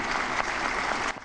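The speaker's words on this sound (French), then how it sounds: "À leur entrée, applaudissements nourris dans la salle." Sustained applause fills a congress hall as dignitaries arrive before an audience of parliamentarians, a loud, continuous crowd clapping with no break.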